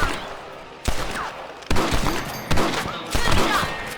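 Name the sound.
gunfire in the video game Red Dead Redemption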